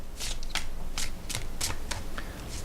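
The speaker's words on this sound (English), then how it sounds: "Let's see how it shuffles." A somewhat thick tarot card deck is riffled repeatedly, a series of quick crisp bursts of fluttering card slaps, close and clear.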